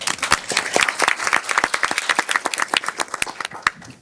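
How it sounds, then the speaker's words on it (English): Audience applause at a school board meeting: a room of people clapping in a brisk, crisp burst of distinct claps that thins out toward the end. "Please clap it up for him."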